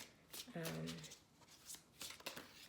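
A deck of tarot cards is shuffled by hand in quick riffling bursts, close and soft, mixed with quiet talk.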